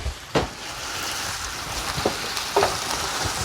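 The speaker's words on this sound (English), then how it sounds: "Let me stir all that cheese in and that lemon juice" Shrimp couscous sizzles in a pan while cheese and lemon juice are stirred in, a steady close frying hiss broken by a few soft scrapes of the spoon.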